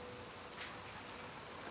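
Steady rain in the video game Little Nightmares 2, a dense, even hiss that fills the background without pause or break.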